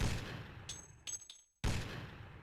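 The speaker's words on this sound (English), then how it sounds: "You select an option, it plays the gunshot." Menu selection gunshot effect in the vehicular combat video game Twisted Metal: Black, two loud bursts of noise separated by a brief gap of quieter crackling and near silence, sounding close and sharp.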